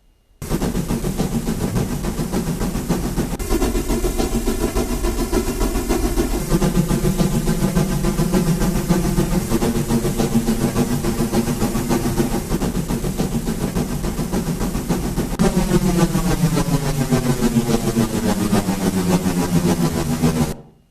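A loud, continuous train rumble with shifting tonal whines and rhythmic clatter, building and changing pitch as it draws nearer.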